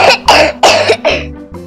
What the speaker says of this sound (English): Coughing is an effective way to push the object out.